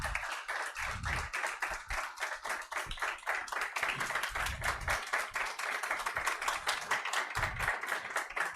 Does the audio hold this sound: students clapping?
yes